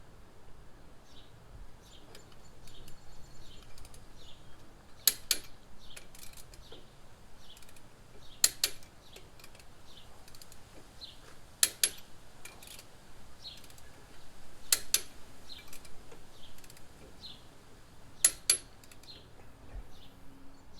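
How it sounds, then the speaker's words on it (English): Sharp clicks from a torque wrench tightening lug nuts on a Jeep Wrangler TJ wheel, arriving in small clustered bursts every few seconds over a quiet, faintly hissing background with no talk. "when you put pressure on it, it will go click, click, click, click when it reaches that number"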